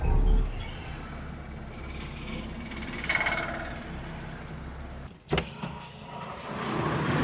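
A car pulling up and parking at a home backyard, low engine rumble and a whirring power window, then a sharp clunk near the end, no talking.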